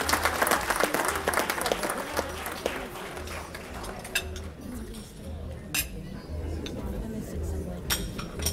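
Applause for Mr. Marcus Fisher at a banquet, heavy clapping at first that fades after a few seconds into room murmur with the clink of cutlery and dishes and scattered claps.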